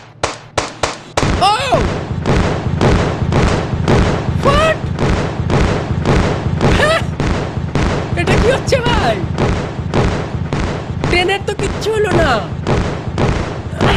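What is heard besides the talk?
firecrackers bursting after being shot in a video game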